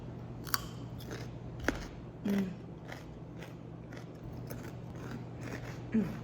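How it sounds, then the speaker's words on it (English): A few crisp, crunchy bites into a raw carrot, spaced apart, with a low steady hum in the background. "listen to the carrot crunch."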